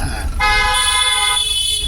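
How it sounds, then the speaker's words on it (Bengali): A car horn blares in one long, loud, sustained honk during a driving lesson, steady and close, with a faint voice briefly underneath at the start. "হ্যাঁ হর্নটা দে একটা"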